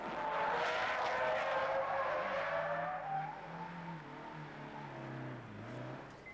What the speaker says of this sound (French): le moteur il fait un bruit incroyable